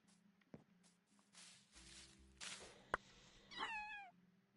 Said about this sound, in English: Who put a cat in here?